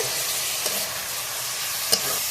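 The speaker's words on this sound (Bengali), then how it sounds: "দুটো তেজপাতা দিয়ে দিচ্ছি" Two bay leaves drop into hot oil for a Bengali chui jhal beef curry, giving a steady close sizzle with a couple of brief sharp pops and taps.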